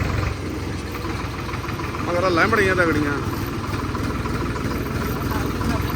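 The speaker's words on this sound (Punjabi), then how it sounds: "ਹੁਣ ਟਰੈਕਟਰ ਕੱਢ ਕੇ ਅਸੀਂ ਗੇੜੀ ਮਾਰ ਦਈਏ" A tractor engine idles with a steady low rumble, a farm tractor about to be taken out for a drive, while people talk over it nearby.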